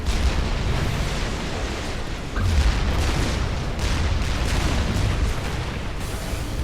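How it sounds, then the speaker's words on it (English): Heavy turret fire in the real-time strategy game Supreme Commander 2, a dense, continuous rumble of booming blasts and explosions with a louder burst near the middle, steady and loud throughout with no talking. "let's pull them into the heavy turret fire"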